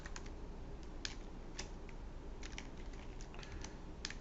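Rapid clicking of keys on a computer keyboard, an irregular run of close, light keystrokes with no talking.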